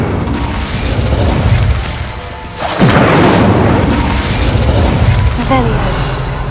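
An Incendio fire spell in Hogwarts Legacy gameplay bursts out with a sudden booming whoosh after a rumbling buildup, followed by a roaring crackle that fades slightly, with a few small sharp pops near the end.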